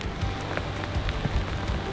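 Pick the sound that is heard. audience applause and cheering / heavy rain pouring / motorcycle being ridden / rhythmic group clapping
heavy rain pouring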